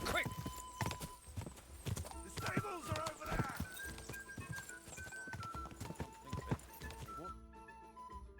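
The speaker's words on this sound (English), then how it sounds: "you're a fine horse" Horse hooves clip-clop on ground with an occasional whinny in Kingdom Come: Deliverance 2, close and steady over game music and a voice talking to the horse.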